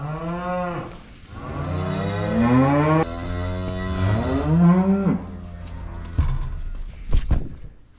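Cattle mooing near at hand, heifers with newborn calves: several long, loud, drawn-out moos follow one another with brief gaps, with no talk over them.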